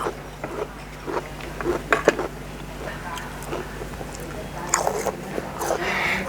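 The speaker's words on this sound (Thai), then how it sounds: "พริกน้ำปลามาจิ้มหนู กินกับหน่อไม้ก็ได้ค่ะ" Someone eating fried field rat with bamboo shoots dipped in chili fish sauce, producing close, irregular bites and wet chewing with a few sharper crunchy peaks, under soft ambient noise and faint vocal sounds.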